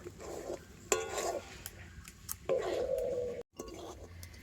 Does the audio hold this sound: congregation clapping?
no